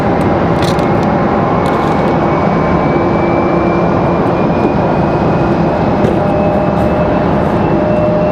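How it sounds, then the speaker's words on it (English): A Boeing 737 Max arriving at Raleigh-Durham airport from Chicago gives a loud, continuous jet roar with a slowly shifting engine whine, sustained and close the whole time with no talking. "737 Max coming in from Chicago"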